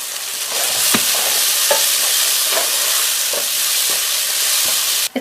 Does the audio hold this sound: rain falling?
no